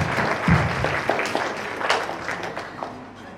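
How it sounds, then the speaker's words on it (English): An audience gives Omika a hearty round of applause for earning her MBA, with moderate, somewhat thin clapping that gradually tapers off, plus faint voices in the room. "Let's put our hands together and give her a hearty round of applause"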